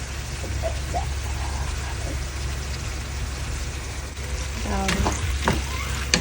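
Chicken gizzard fries in a pan with a constant crackling sizzle as it is stirred, with several louder scraping and clattering strokes near the end.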